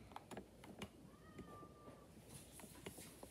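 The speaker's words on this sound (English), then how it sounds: "Oh, the cat's meowing." A cat in Minecraft lets out one faint, drawn-out meow amid soft scattered clicks like keyboard tapping in a quiet room.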